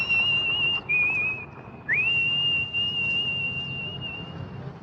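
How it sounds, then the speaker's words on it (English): A woman whistles a single clear, high melodic line from the 1968 thriller Twisted Nerve, sustained notes with brief breaths and a rising slide between phrases, over a faint low background. "the tune she's whistling is taken from the 1968 thriller Twisted Nerve"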